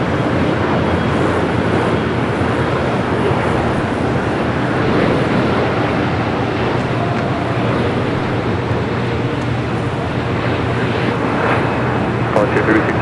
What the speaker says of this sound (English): Flight 16 coming in from Tokyo Haneda. Again, it is A350-1000.